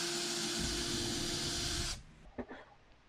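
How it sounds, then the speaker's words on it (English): A power drill bores a pilot hole in wood for a bottle opener, giving a loud, steady whirring hiss for about two seconds. It cuts off abruptly, followed by a couple of quiet knocks. "Drill yet another pilot hole."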